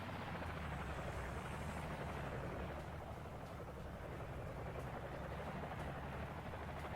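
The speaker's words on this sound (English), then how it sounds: "ninja recon helicopter." A recon helicopter in the real-time strategy game Act of Aggression gives off a continuous dense rotor drone that holds steady at an even, moderate level throughout, with no voices over it.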